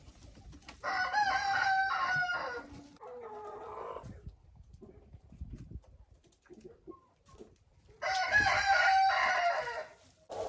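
Backyard hens cluck softly in the pauses while a rooster crows loudly twice, once near the start and again near the end, close by.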